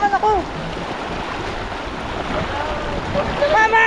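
A strong river current rushes past in a steady, loud wash with a blowing, windy quality. Brief voices break in at the start and again near the end.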